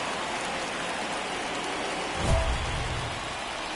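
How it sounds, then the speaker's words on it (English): Steady, even rain noise hisses throughout a baseball game in the MLB 2024 video game, with a brief low thump midway; no speech. "This rain is not letting up."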